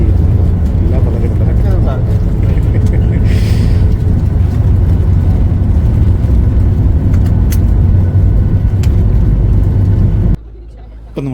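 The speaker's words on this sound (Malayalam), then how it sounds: "ഇപ്പം നമ്മൾ ഫ്ലൈറ്റിൽ ഇറങ്ങി നമ്മുടെ ആ ബസ്സിനകത്ത് നേരെ എയർപോർട്ടിൻ്റെ ടെർമിനലിലേക്ക് ഇങ്ങനെ സഞ്ചരിച്ചുകൊണ്ടിരിക്കുകയാണ്" An airport shuttle bus in Dubai carries passengers from the plane to the terminal, its engine a loud, steady low rumble with rattling that stays even for most of the ride and then drops off suddenly near the end.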